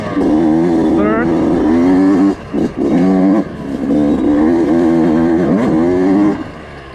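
A Yamaha YZ125X two-stroke dirt bike ridden on trails, its engine buzzing loud and close and rising in pitch, then dipping briefly as the rider clutches and shifts into second gear before climbing again.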